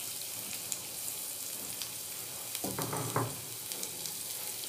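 Crushed garlic cloves dropped into hot oil in a pan start frying, giving a brief burst of sizzling and spitting over a faint, steady background hiss, quiet and close.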